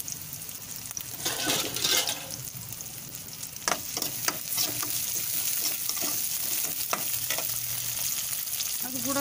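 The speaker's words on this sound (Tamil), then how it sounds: "எண்ணெய் சூடாகிட்டுங்க வெங்காயம் போட்டுக்கலாம்" Onions fry in hot oil for a prawn curry, a steady loud sizzle with occasional stirring scrapes and clacks throughout.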